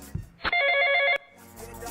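A telephone rings once in a single bright electronic trill lasting under a second, loud and close. Brief noises come just before it and muffled background sound follows.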